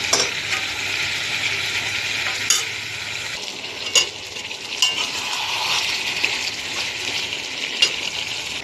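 Meat frying in a pan with freshly added ginger, garlic and onion, a steady close sizzle under repeated stirring and scraping, with sharp utensil clinks against the pan, no talking.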